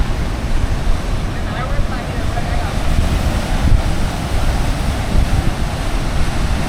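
Big sea waves break at the shore in Guhagar, a loud continuous rumbling wash mixed with heavy wind buffeting on the microphone, with no distinct voices.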